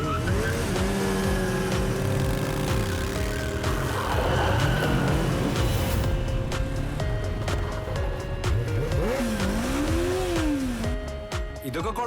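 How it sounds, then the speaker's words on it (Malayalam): Motorcycle engines rev and rise in pitch during stunt riding in a film street scene, with tire-squeal-like whines and sweeping engine tones running continuously and loudly under people talking. "ഇതേതോ ബൈക്ക് സ്റ്റണ്ടിന് സംഭാവന വാങ്ങിക്കാൻ വന്ന പിള്ളേരാന്ന് തോന്നുന്നു."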